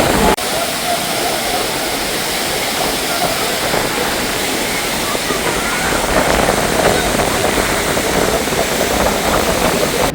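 Continuous loud rushing roar of a waterfall dropping about 300 feet, Aagaya Gangai falls in Kolli Hills, close and steady for the whole stretch, with no clear speech.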